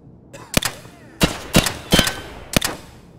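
Gunshots in Escape from Tarkov: six sharp, loud reports in uneven bursts over about three seconds, some in quick pairs, with a faint rumbling background between them.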